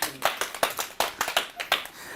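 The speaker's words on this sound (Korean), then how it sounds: "박수 좀 치세요" Scattered hand claps from a small class audience during an outdoor safety-camp lecture on climate change, a handful of distinct sharp claps in an uneven rhythm, fairly close and moderately loud, with no talking.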